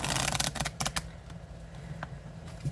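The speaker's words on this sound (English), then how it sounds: "It's just a really good shuffle." Tarot cards being riffle-shuffled close up, a brief quiet flutter of crisp card snaps followed by a few softer taps.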